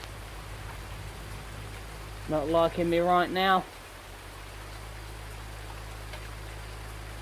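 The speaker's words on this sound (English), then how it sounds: "it's going to rain all day" Steady in-game rain in Farming Simulator 19 on a farm with a cornfield, a constant soft hiss throughout, with a voice talking briefly over it midway.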